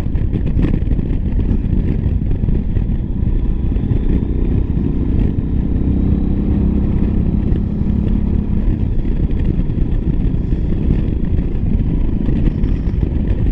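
Steady exhaust drone from a Yamaha XT1200Z Super Tenere motorcycle while riding, a continuous low rumble with wind buffeting, no talking.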